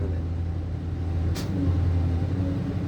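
Engine of a Thai tour bus running steadily, a deep humming drone with layered low tones, close and continuous, broken by one short airy hiss partway through.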